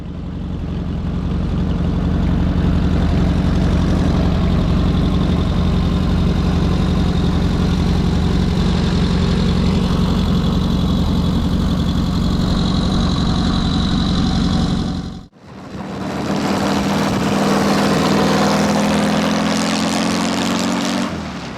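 A 1937 Puch 800 motorcycle engine runs steadily at idle, a loud, close, continuous low rumble that cuts out briefly near the end before picking up again with a rougher, shifting tone.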